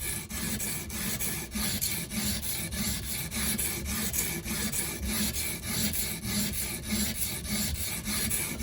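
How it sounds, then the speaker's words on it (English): A knife blade is drawn steadily across a coarse 120 grit stone on an Edge Pro sharpener, giving a continuous gritty rasping scrape with a quick repeating stroke rhythm, close and alone. "I'm going to use the 120 grit stone on my Edge Pro here,"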